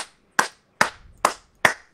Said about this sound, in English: You're good at clapping